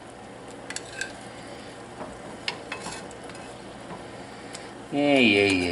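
Pork chops sizzling in pan gravy in a pot, a continuous close sizzle with occasional utensil clinks, a brief voice near the end.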